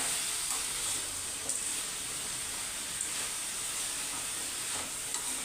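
Radish sautés in a pan for chutney, a close, steady sizzle and hiss with soft stirring scrapes throughout.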